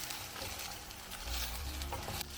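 Seared pork sizzles and spatters in a pan, a soft steady frying hiss with light crackles and a low rumble as the meat is moved.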